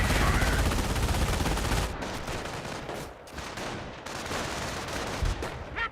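Machine gun bunker fire in the real-time strategy game Company of Heroes, a dense burst of rapid automatic shots that drops off and gives way to scattered sporadic fire and battlefield noise.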